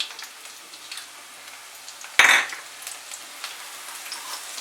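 Chopped garlic hits four tablespoons of hot white oil in a kadai over high heat, with a sudden loud sizzle that settles into a steady frying crackle, no one speaking.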